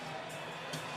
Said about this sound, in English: By far the biggest crowd of the season